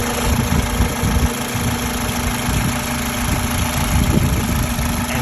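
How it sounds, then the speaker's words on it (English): A car engine runs continuously up close, a loud steady mechanical drone with a constant whine and rough low rumble. "Every sound your engine makes, it's metal talking to metal."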